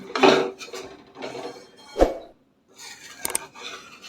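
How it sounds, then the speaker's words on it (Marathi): A utensil stirs ragi flour with ghee in a pan, giving irregular scraping and clinking strokes against the metal with short pauses between them. "तर असं हलवत राहायचं आहे"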